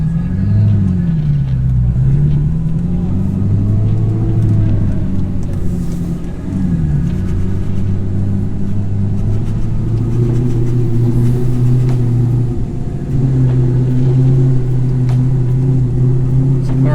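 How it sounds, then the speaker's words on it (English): An Audi R8 V8 revs hard at high RPM in the rain in Los Angeles, a steady loud engine drone whose pitch rises and falls across the run, with a brief voice underneath. "This car loves the high RPMs."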